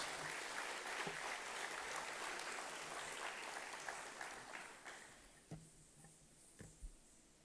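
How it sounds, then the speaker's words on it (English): Audience applause after a cultural performance at a community event in Singapore: broad clapping that starts full and gradually thins out to a few scattered claps near the end. "a round of applause for a wonderful performance"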